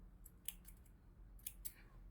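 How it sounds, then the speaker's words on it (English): Scissors snip through crochet yarn, a few quiet crisp cuts in close succession against a near-silent background. "you're going to just make a chain of 1 and cut your yarn"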